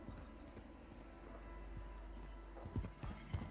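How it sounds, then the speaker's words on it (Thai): Footsteps in Call of Duty Warzone, heard as faint scattered thuds and scuffs over a low steady hum, with two sharper impacts near the end. "ได้เสียงเท้าอยู่นะ"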